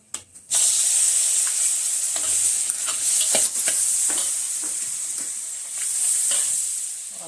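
Masala fries in butter for shahi paneer, a loud continuous hissing sizzle up close with scattered scraping stirs and spatters throughout.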